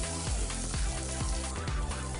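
Tomatoes and curry leaves sauté in a pan with a continuous sizzle, while a spoon scrapes and stirs in a rough, repeating rhythm close by.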